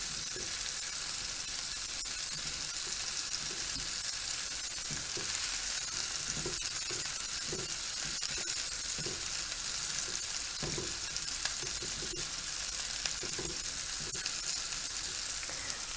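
Lamb meatballs browning in a frying pan, a continuous even sizzle and spatter heard close up, with scattered soft knocks as they are turned, and no talk over it.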